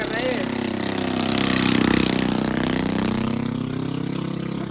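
A KTM motorcycle's exhaust throbs nearby at a showroom with a steady, pulsing idle that swells briefly as it is revved, then settles. Someone talks over it.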